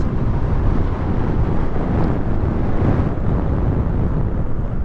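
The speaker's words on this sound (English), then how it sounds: "It's been crazy windy in LA every day now." Steady, heavy wind buffeting a microphone while riding a Caroma C1 electric scooter at about 18.5 mph in Los Angeles, a constant low roar and rumble that never lets up, with no voices.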